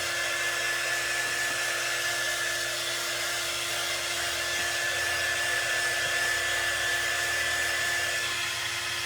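A hair dryer blows steadily on a craft project, a loud, constant whooshing hum that runs unbroken with no talking over it.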